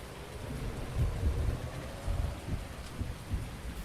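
Heavy rain falling outdoors on a farm, a steady wash of drumming water with low rumbling gusts swelling and fading, fairly faint and with no one speaking.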